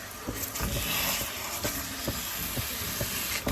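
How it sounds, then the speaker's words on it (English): Pork sausage browning in a pan, a constant dense hiss and sizzle with occasional soft scraping taps mixed in. "All right, so we're going to brown this up."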